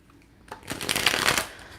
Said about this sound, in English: Just getting it nice and shuffled up in between.